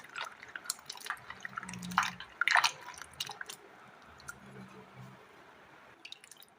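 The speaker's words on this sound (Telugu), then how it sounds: "కంపల్సరీగా ఇలా ఈ బంగాళదుంప ముక్కల్ని వాష్ చేసుకోవాలి" Potato pieces are washed in water, with close wet splashing, dripping and squishy handling sounds in irregular bursts, louder around the middle and quieter toward the end.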